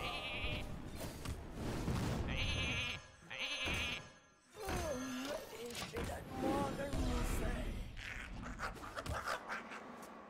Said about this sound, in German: Die Schafherde auf dem Feld.